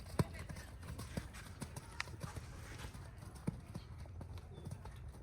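Horse hooves clip-clopping on an arena surface during a riding lesson, a soft, fairly steady rhythm of footfalls at moderate distance, with faint background noise.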